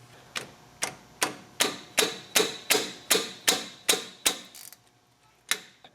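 Hand tools loosen 17 mm bolts during a front wheel bearing replacement on a 2002–2003 Trailblazer 4WD, as an open-end wrench holds the bolt. Close, crisp ratcheting clicks come in an even rhythm of about a dozen, then pause before one last click.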